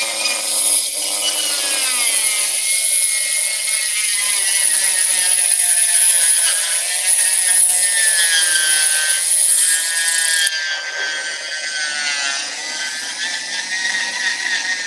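A small rotary cutoff wheel grinds steadily into a bone guitar pick with a continuous high whine and gritty rasp, close and loud, its pitch wavering and dropping slightly partway through.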